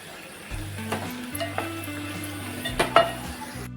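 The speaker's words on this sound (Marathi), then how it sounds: "ओलं खोबरं घेतलं ते आपण याच्यामध्ये टाकून घेणार आहोत आता हे आपण मिक्स करूया" Coconut and coriander paste is stirred into usal frying in a pan, with a soft steady sizzle broken by light scraping and clinks of the spoon against the pot.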